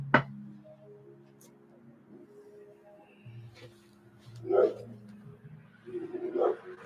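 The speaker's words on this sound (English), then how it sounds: "Fucking dog." Dog barking indoors, a sharp bark at the start followed by a couple of louder barks and whimpery yips later, moderately close over a faint tonal background.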